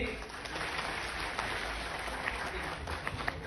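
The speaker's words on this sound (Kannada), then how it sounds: "ಒಂದು ಚಪ್ಪಾಳೆ ಬಲ್ಲಿ" Dense, steady clapping from an audience fills the whole stretch, a broad crackling wash with no pauses.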